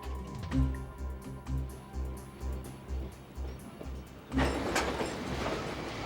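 A train rolls slowly through a railway station with a steady, rhythmic clunk of wheels over rail joints, then a louder burst of rushing, rattling noise as it passes closer.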